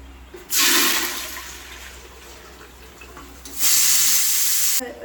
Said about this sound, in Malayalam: അപ്പോൾ അതിലേക്ക് നമ്മൾ അളന്നെടുത്ത വെള്ളമാണ് അപ്പോൾ അത് ഇതിലേക്ക് ഒഴിച്ചു കൊടുക്കുന്നത്